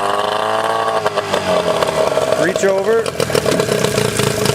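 A boat outboard motor idles on a river with a loud, steady, buzzing drone up close, and a voice speaks over it.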